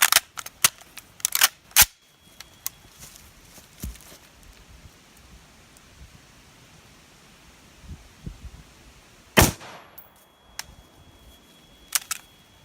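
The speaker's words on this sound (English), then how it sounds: "we're going to fire one at that angle steel" A green tip penetrator rifle round fired at a piece of angle steel gives a sharp, loud outdoor shot followed by another loud crack, scattered smaller impacts and clicks between long quiet gaps.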